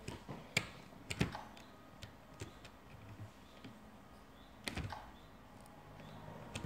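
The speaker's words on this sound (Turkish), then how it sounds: "Klavye sesi gelebilir şu an şuradan." Irregular bursts of keyboard typing, sharp clicks at uneven intervals, close by in an otherwise quiet room.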